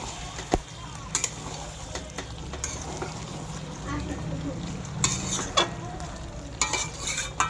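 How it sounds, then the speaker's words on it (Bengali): Potatoes stirred into chicken curry in a pan, with scattered scrapes and knocks of a utensil over a steady sizzle of frying, no speech heard. "আমি থালাটা একটু খুলে আবার একটু নাড়াচাড়া করে দেবো। তো এর মধ্যে আমি আলুগুলো দিয়ে দেবো।"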